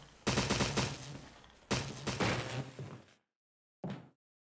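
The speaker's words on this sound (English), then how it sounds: "How many bullets is this guy gonna take?" Gunfire aimed at a zombie in the Resident Evil HD Remaster video game: two long loud bursts of rapid shots, then after a short silence one brief final burst.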